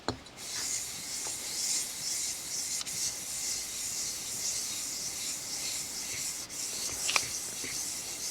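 Sheets of 400-grit wet and dry sandpaper rub an engine cylinder head from a Yamaha 100 Trailmaster, giving a steady, close scratchy rasp with small knocks at the strokes.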